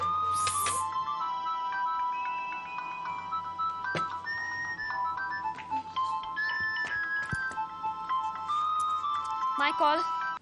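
Mobile phone ringtone playing a bright electronic melody in a home during a dinner scene in a Hindi TV drama, with people talking over it.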